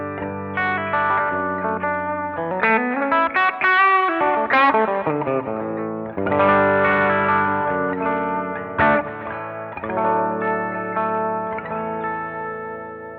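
Guitar notes and chords ring out through a Boss RE-2 or Roland RE-201 Space Echo with multiple playheads and reverb, repeats cascading and overlapping into a shimmering, warbling tail.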